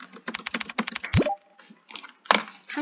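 Rapid clicking of keys on a computer keyboard during Hancom typing practice, a dense run of close, crisp keystrokes followed by a brief pause, a short tone and a few more clacks.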